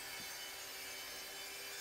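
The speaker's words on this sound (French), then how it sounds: "va faire son débit avec sa scie plongeante" A plunge saw cuts through wood in a workshop, a steady, dense whining buzz throughout the short stretch, close and loud with no talk.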